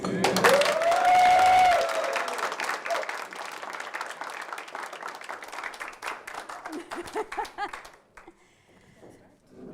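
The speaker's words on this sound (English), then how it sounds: "Give them a very, very big and warm applause." Conference audience applauding a group at a networking event, a moderate patter that begins under a brief tone and talk, continues steadily, then tapers off into quiet.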